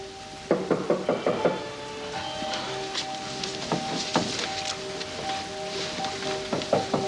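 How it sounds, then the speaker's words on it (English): Several sharp knocks on a door indoors, arriving in short uneven bursts of raps with quieter pauses between, fairly close and alone without talking. "Someone at the door."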